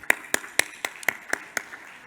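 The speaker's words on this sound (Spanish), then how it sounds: "Así que le damos la bienvenida con un fuerte aplauso." Sparse, evenly spaced hand claps, about eight in two seconds, sound faint and close as a speaker is welcomed at a mining-industry congress.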